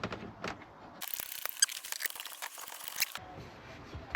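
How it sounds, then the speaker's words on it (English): Bolts are ratcheted back into the legs of a bunk inside a converted camper van, a quick run of close metallic clicks lasting about two seconds between softer handling clatter. "Take the two legs out and we put the bolts back in."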